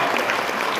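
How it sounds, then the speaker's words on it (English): Brief burst of dense audience applause at a fireside chat session of a business conference, steady and loud from start to finish with no clear break. "Let's have a round of applause for the 3 from the"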